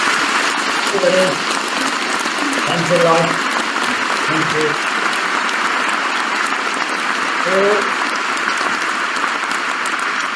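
Loud, sustained audience applause greets a speaker taking the stage at a Hindi talk on health and wealth, while a voice speaks briefly several times over the continuous clapping.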